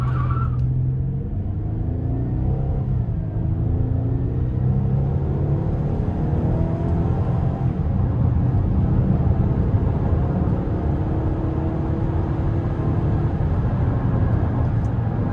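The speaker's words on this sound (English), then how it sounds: "it wanted to squeal the tires just a tad" A 2017 GMC Acadia front-wheel-drive V6 SUV pulls away under hard acceleration, a loud steady engine drone rising in pitch from inside the cabin, with a brief tire chirp at the start.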